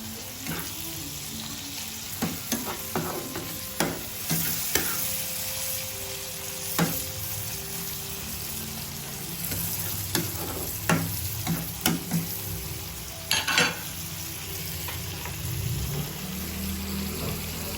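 Bean sprouts and shrimp are stir-fried in a pan after a splash of vinegar, a constant sizzle broken by scattered clinks and scrapes of the spatula, with a brief watery splash near the end; no one speaks.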